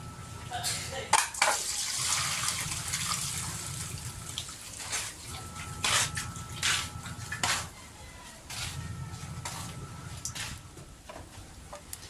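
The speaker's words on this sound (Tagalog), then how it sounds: "Pwede i-drain ang ating pansit bihon na binabad." Soaked rice noodles (pancit bihon) being drained, with running and splashing water and occasional clatter of pots in a kitchen, moderately close and fairly steady.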